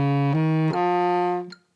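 A baritone saxophone plays an accent exercise in cut time: a few sustained low notes with sharp attacks at each change, ending with a short final note, heard alone and close.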